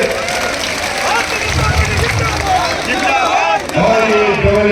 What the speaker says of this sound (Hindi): दोनों हाथ उठा के ताली बजा के बताइए।